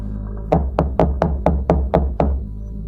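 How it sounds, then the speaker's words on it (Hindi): Cartoon-style knocking on an old wooden door at night, seven sharp, evenly spaced raps over a low background hum. "अर्जुन ने जल्दी जाकर दरवाजा खटखटाया।"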